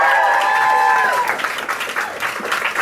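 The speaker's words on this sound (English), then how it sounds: "round of applause for all of the acts thus far tonight" A cabaret audience claps for the night's acts, a crowd of hands rising after a brief sustained tone at the start, then scattered, fluttering applause continuing close by.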